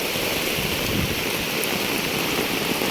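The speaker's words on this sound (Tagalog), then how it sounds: "Bumubuga yung tubig." Floodwater gushing beneath a crowded bridge during heavy monsoon rain in the Philippines, a continuous loud roaring rush of water with no pauses and no voices.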